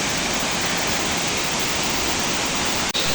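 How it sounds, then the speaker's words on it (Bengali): A waterfall in Malaysia roars as a loud, steady, full-bodied rush of falling water, close and unbroken apart from one tiny momentary dropout near the end, with no voices. "দেখেন পানিগুলো কিরকম ভাবে পড়তেছে।"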